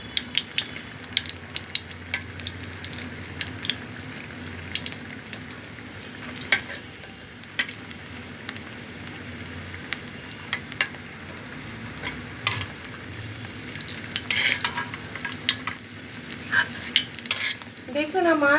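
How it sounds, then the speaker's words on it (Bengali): Lentil bori frying in a pan for a hilsa, eggplant and spinach dish, a steady close sizzle with scattered crackles and stirring scrapes running throughout, no talk. "বড়িটাকে অবশ্যই একটু লাল লাল করে ভেজে নেবেন"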